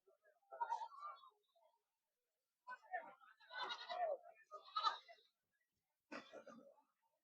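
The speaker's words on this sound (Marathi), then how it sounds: "उस्मानाबादीचे शेळ्या आहे" Osmanabadi goats call at a goat and sheep market in Shirur, with several short, wavering bleats in separate bursts against an otherwise quiet background.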